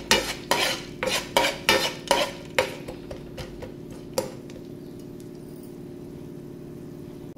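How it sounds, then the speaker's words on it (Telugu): Raw banana (aratikaya) fry being stirred in a pan over a medium flame: a spoon clinks and scrapes in a quick run of about a dozen strokes, fading to a quiet sizzle. "మీడియం ఫ్లేమ్లో పెట్టుకొని ఇప్పుడు ఇలా కలుపుకోండి"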